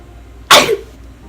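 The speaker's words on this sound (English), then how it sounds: "every time you sneeze, literally your heart stops for like a second" A single sharp human sneeze bursts out close to the mic, brief and loud, followed by quiet room tone.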